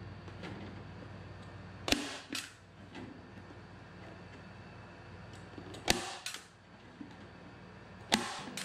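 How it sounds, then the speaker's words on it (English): A staple gun firing staples through screen mesh into a wooden frame for an arrowhead sifter: three sharp, snappy clacks spaced a few seconds apart, each with a short rattle after, over a faint steady hum. "Then we'll get our staple gun loaded up and staple this down."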